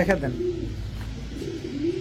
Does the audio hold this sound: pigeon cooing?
yes